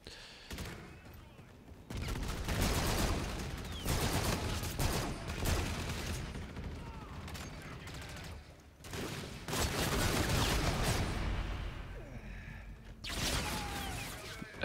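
An automated turret fires in Call of Duty: Infinite Warfare, with dense, sustained bursts of gunfire and mechanical clatter filling most of the stretch, pausing briefly between volleys, while a player talks over it.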